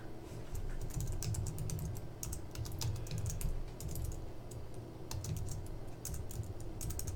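Someone types on a computer keyboard nearby in a steady stream of quick clicking keystrokes, broken by short pauses, over a low background hum.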